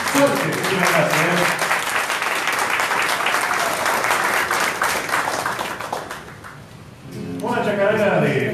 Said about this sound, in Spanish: Fuerte el aplauso, fuerte,